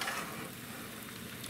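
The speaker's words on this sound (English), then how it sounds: "I'll toast our biscuits up a little bit here" Biscuits toasting on a camp burner while camping in the rain, a steady soft sizzle and hiss running evenly throughout, close by and fairly quiet.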